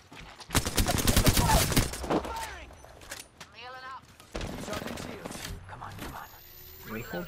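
Rapid automatic fire from a Spitfire machine gun in Apex Legends crackles in a dense, loud burst, then pauses for other game effects before another sustained volley resumes. A voice talks over parts of it.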